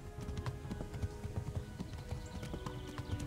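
Hooves clip-clop rapidly as a horse gallops in the video game Kingdom Come: Deliverance, a steady rhythmic beat at moderate volume with occasional faint snorts.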